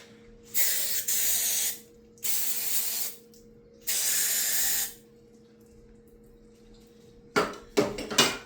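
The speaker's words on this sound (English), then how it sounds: "Just cleaning it out with some electrical cleaner." Electrical cleaner sprayed into the spark plug well of a 2013 Mercedes-Benz C250: three separate, loud, hissing aerosol bursts of about a second each with pauses between, then a few short clattering knocks at the end.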